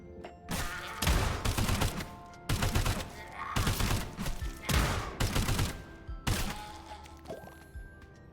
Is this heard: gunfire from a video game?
yes